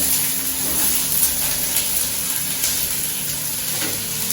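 Onions, curry leaves and dried red chillies frying in hot oil with a pinch of salt for a Chettinad chutney, a loud, dense, continuous sizzle heard close up with no talking.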